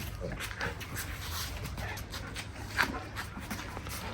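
A dog with a history of aggression, being handled during guard-dog training, whimpers and pants through steady background noise, with one sharper yelp near the end and people talking nearby.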